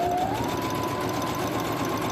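A sewing machine stitches across a face mask in one unbroken run, a loud, close, even mechanical whir with a slight rise in pitch as it speeds up.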